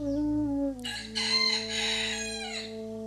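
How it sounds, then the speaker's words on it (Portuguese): A rooster crows once, a loud, close cock-a-doodle-doo with a bright, strained middle and a trailing fall, over a sustained low musical drone. "O galo anuncia."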